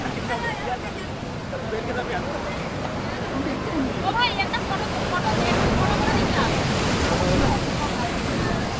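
Waves break and splash against the bank at Digha beach in a steady, rushing wash that swells louder in the second half, with a murmur of distant voices mixed in.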